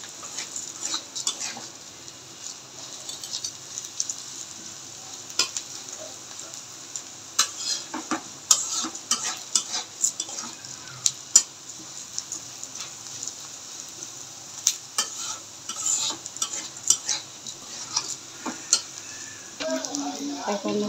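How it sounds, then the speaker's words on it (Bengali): Mung dal fries in a pan with a steady low sizzle while a utensil stirs and scrapes it, making frequent sharp clicks and scrapes against the metal throughout. "মুগ ডালে কাঁচা গন্ধটা যতক্ষণ চলে না যাচ্ছে ততক্ষণ একটু ভেজে নিতে হবে।"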